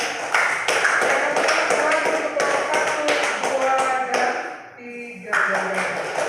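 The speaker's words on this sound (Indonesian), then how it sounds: "Tepuk tangan untuk kelompok 3" A classroom of students applauds a presenting group with a loose burst of hand claps, close and fairly loud, with voices talking and calling out throughout.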